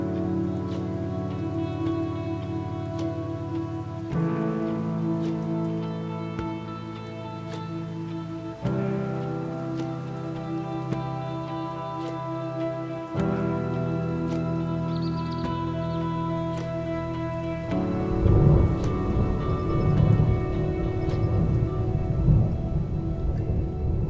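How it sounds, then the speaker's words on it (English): Heavy rain pours steadily through a night thunderstorm with strong winds, a continuous dense wash of sound broken by loud low rumbling surges of thunder, growing heavier and rougher toward the end. "The storm continued well into the night, howling winds and heavy rain until late morning the next day."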